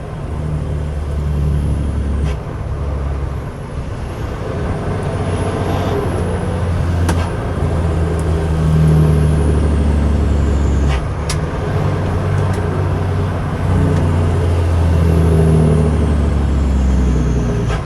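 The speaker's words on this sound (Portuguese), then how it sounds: "o que acharam do freio motor?" A heavy truck's engine brake drones loud and close while the rig is underway, a steady low rumble that swells and eases over about eighteen seconds with road noise mixed in.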